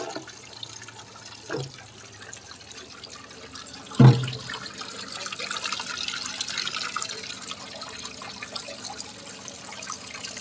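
Water overflows from a container on a small farm, a soft continuous trickle and splash with two sharp knocks early on, the flow swelling slightly and running steadily to the end without talk.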